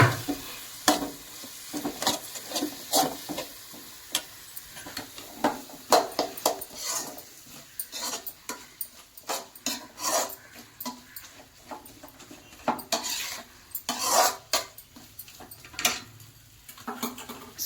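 A spoon stirs okra curry seasoned with chili powder in a pan, producing steady sizzling under repeated scraping clinks and taps, close and busy throughout.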